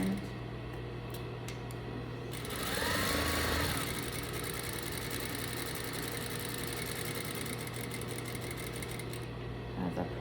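A sewing machine runs a steady straight seam on a collar, its motor hum swelling for a couple of seconds amid quiet room noise, then easing off as the stitching stops.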